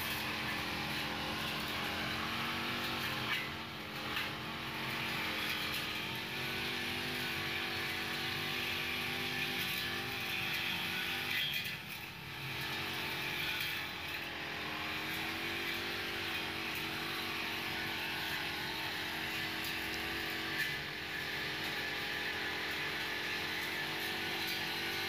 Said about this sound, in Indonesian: Ini pembersihan gulma menggunakan mesin babat untuk mempercepat pekerjaan.